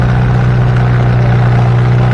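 A loud, steady pulling-tractor engine drones low and continuous at a tractor pull, a heavy motor running hard without letup, with no voices over it.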